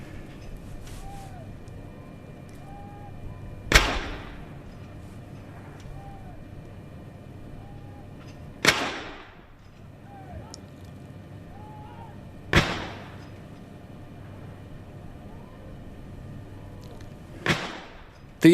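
Artillery guns of the Honourable Artillery Company firing a 62-gun salute for the King's coronation anniversary: four sharp, booming reports spaced several seconds apart, each rolling out over a quiet outdoor background.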